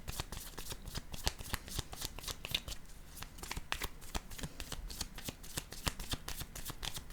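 Tarot cards riffled and shuffled by hand during a psychic reading, a dense run of quick crisp flutters with short pauses, close and steady with no talking.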